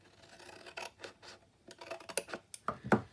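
Scissors cutting paper for a cauldron treat craft: a series of close, crisp snips and scratchy cuts, sparse at first and then quicker and louder toward the end, with no talking.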